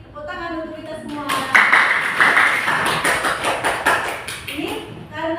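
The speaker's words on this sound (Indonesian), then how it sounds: "Tepuk tangan untuk kita semua." Audience applause at a classroom group presentation session: a burst of many hands clapping starts after a short voice, stays dense and steady for about four seconds, then thins out as a voice returns near the end.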